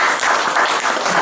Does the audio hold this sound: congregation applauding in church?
yes